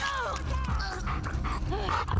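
Dog in The Last of Us Part II game combat, yelping and barking in short bursts up close, with game noises throughout and a person briefly talking over it.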